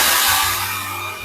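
A cordless vacuum cleaner with strong hurricane suction runs steadily in a loud, continuous whooshing drone close by, with no talking.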